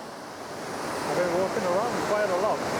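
Rushing water from a stream or waterfall in the Swedish mountains in early spring, a steady broadband roar growing slightly louder, with a faint voice heard underneath.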